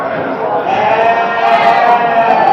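Goats and sheep bleat at the Məştağa livestock market, several wavering cries overlapping close by amid crowd noise and talking voices.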